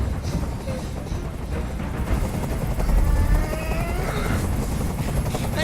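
Helicopter hovering close by in the video game Detroit: Become Human, a loud continuous rotor thrum and whine that runs through the whole moment under faint background sounds.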